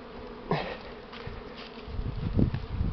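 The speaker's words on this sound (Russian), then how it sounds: "Пчелы." Honey bees from an early spring swarm in April, settled on an apple tree, buzz as a broad, steady drone that swells louder toward the end, with rustling and handling noises nearby.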